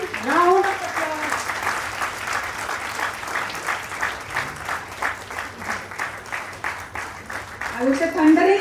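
Sustained audience applause fills a hall at a platinum jubilee celebration, steady dense clapping from a large crowd with a voice speaking over it at the start and end.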